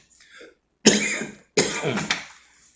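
Two harsh coughs from a sore throat, close and loud, after a faint breath, each with a rough, throaty rasp.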